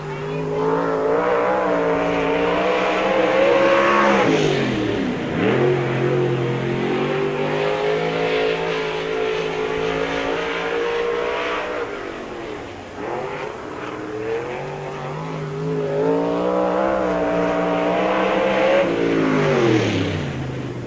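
Race car on a qualifying lap at Spoon River Speedway in 1997, car number 18, the Village Motor Special, with a loud engine roaring and swelling as it passes, easing off and revving again in repeated cycles around the oval.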